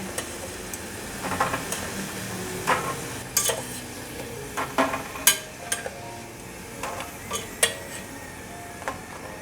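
Gluten sausages fry in hot oil with a steady soft sizzle, broken by scattered metallic clicks and taps of utensils against the pan. The sounds are close and there is no speech.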